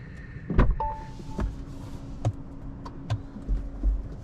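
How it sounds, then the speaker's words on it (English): The side mirrors of a 2023 Citroen C5 Aircross plug-in hybrid fold in with a short electric whir, followed by scattered clicks and soft thumps in a quiet setting. "the mirrors fold down"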